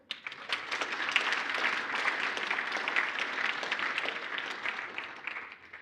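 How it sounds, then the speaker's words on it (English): Warm applause from an award ceremony audience, many hands clapping densely and steadily at moderate distance throughout. "A round of applause."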